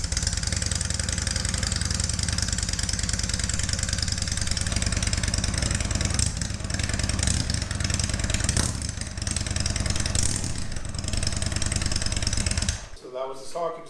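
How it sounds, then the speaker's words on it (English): A 2021 Indian Chief motorcycle with its stock exhaust in sport mode idles with a throbbing, close-up rumble, rising in a few revs before cutting off near the end. "So that was the stock exhaust in sport mode."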